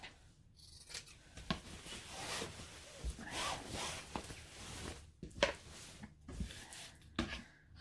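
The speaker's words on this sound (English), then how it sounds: "I'm going to cut straight across here and chop it in half" Fabric being cut with scissors, a series of close, quiet snipping and sliding strokes with short pauses between cuts, no voices.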